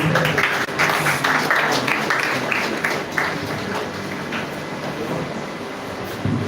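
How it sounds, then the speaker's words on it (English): An audience at a seminar and foundation launch applauds, dense close clapping that is loud at first and eases slightly while continuing to the end. "Please let's give a round of applause."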